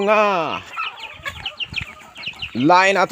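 A small bantam chicken on a farm gives two loud, drawn-out calls near the mic, one at the start and one at the end, with softer clucks and scratchy rustling between them.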